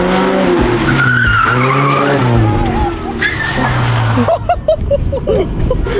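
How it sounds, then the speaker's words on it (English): A Ford Mustang drifting on a track: a loud engine roars and revs with a rising, wavering pitch while the tyres squeal and skid. Near the end the engine turns choppy and sputtering. "next up we got Miller in the 105 Mustang"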